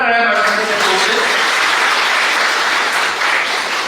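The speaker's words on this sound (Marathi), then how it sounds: "एकदा जोरदार टाळ्या मॅडम." An audience applauds at the inauguration function of a Navratri lecture series, a loud, dense, sustained clapping that carries steadily for about four seconds, with a voice briefly audible at the start.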